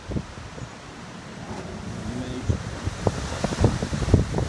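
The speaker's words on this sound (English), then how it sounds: "A lot of wind blowing, that's all the hurricane was." Wind gusting outdoors in the aftermath of a hurricane, a broad, steady rush with buffeting against the microphone that grows stronger toward the end.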